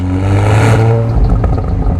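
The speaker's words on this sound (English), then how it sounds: "The rear end of the car is finished off by the optional Akrapovic titanium exhaust system with its 4 pipes. Visually impressive, with a sound to match." A Volkswagen Golf R with an optional Akrapovic titanium four-pipe exhaust revs loudly and close, a rising engine roar that peaks and falls away into a rumbling idle.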